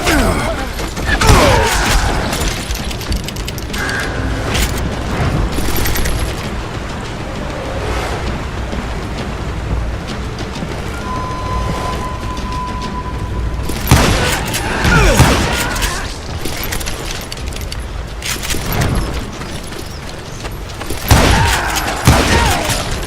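Heavy gunfire in the western video game Call of Juarez Gunslinger: loud bursts of rapid shots and booming blasts come in several waves, with ricochets, thuds and game effects between them.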